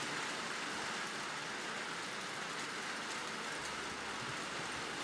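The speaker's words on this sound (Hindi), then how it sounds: "जब बारिश की आवाज आती है, क्या आता है आपके अंदर से?" Steady rain falling, a continuous soft hiss of drops with no voices, fairly quiet and even throughout.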